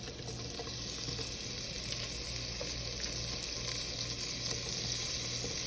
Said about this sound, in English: So now we're going to add the cubes in.